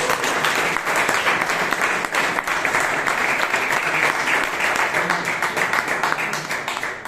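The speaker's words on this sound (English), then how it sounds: "Please give DTM Rajdeep Manmane a huge round of applause." Steady, full applause from the audience at a Toastmasters club meeting in Bangalore, many hands clapping at once, holding an even level for about seven seconds with no talk.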